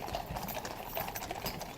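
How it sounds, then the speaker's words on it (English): A distressed horse's hooves clip-clop on a red road in a quick, steady rhythm of close hoofbeats, with a low engine-like rumble underneath. "Okay, so we've got a horsey"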